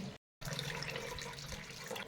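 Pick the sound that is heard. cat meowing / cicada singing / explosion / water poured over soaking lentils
water poured over soaking lentils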